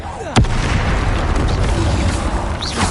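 A Bombarda blast spell from the Hogwarts Legacy video game detonates with a sharp, loud bang, then a dense rumbling wash of game effects carries on steadily behind it.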